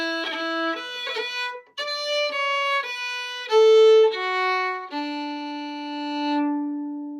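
Two bars of the Irish jig Morrison's Jig played on a string instrument, a quick run of clear, distinct notes in lilting rhythm ending on a sustained note, close and solo.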